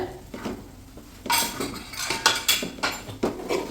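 Chicken being sautéed with spice powders for a homemade chicken pickle, a spoon scraping and knocking against the pan in repeated close strokes, louder in the second half.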